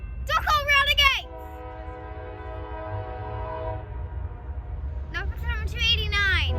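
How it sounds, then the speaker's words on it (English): A Norfolk Southern coal train passes a grade crossing, a low rumble of rolling cars running under the whole stretch, while someone talks loudly over it at the start and again at the end. "Oh, here comes. Norfolk Southern coal train."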